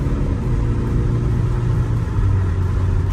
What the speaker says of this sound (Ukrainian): Спорт режим, дивіться. Зразу червона приборочка. І ми поїхали.